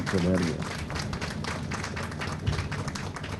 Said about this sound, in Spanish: Un aplauso fuerte para los Harmonie, para una bonita presentación.